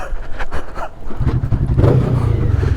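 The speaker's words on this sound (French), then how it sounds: "Hop là, tout va bien, j'ai démarré ma moto." A motorcycle engine running nearby with a rough, throaty idle that builds into a louder, sustained rev toward the end.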